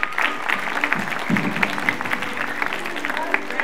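A Vacation Bible School audience claps unevenly, scattered hand claps pattering along with some voices talking underneath.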